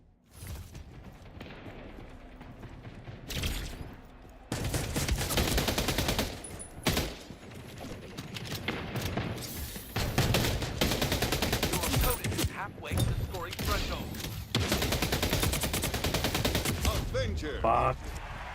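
Shotgun blasts and rapid gunfire in a Splitgate 2 match, loud repeated bursts packed densely together across the whole stretch with a voice breaking in briefly.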